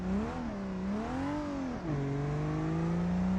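BMW car in the BeamNG.drive video game accelerating hard toward a wall, a steady, loud engine drone rising and falling in pitch, then dipping briefly before settling into a sustained higher-revving whine.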